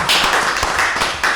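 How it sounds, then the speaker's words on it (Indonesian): A few people clapping for a guest at the close of a podcast, a short burst of loud, close hand claps with an uneven rhythm. "tepuk tangan dulu."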